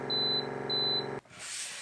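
An Aquibear reverse osmosis water filter dispenser beeps twice as its hot water button is pressed, short, clear, evenly spaced tones over a steady hum that cuts off abruptly.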